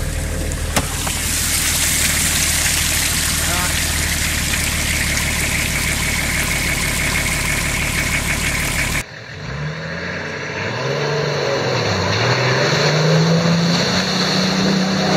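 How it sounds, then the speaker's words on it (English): A 4WD vehicle reverses on an off-road track, its engine a steady loud rumble with water-like wash; after a sudden cut, a quieter engine revs rise and fall nearby. "I've got my handbrake off. I'm just going to start reversing"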